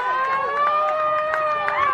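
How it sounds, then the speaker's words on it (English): A sideline siren hooter, the Mount Smart siren brought to Cornwall Park for a rugby league match, holds a steady, loud, wailing tone for the whole two seconds, with a crowd murmuring beneath it. "we've got our own siren noises from the sideline here."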